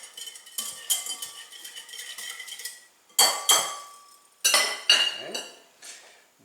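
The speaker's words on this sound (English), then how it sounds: "I'm going to give this a quick whisk." Flour and instant yeast whisked in a bowl: rapid metallic clinks and scrapes against the bowl come in bursts with short pauses, close and clear, with one brief spoken word.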